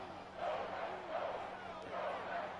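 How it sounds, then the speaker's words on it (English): Stadium crowd chanting in the Madden 24 football video game during a third-quarter third down, a steady broad roar that swells in rhythmic waves about once a second, with no speech on top. "Crowd is chanting."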